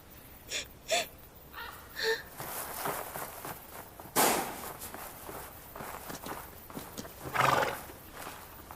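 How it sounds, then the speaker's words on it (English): A horse whinnies and neighs in short bursts over clip-clopping hooves and rustling movement, with one sharp loud crack partway through and a breathy gasp-like cry near the end, fairly close and loud. "He just attacked this poor horse"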